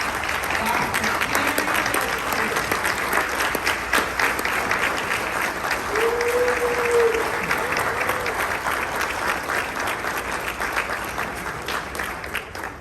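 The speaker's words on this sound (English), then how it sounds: "give a round of applause to our 2024 champion of the Hampton Road Caucus" Sustained audience applause for a keynote speaker at a Hampton Roads Black Caucus event, steady dense clapping from a large crowd that holds for several seconds before slowly fading, with a brief voice rising above it.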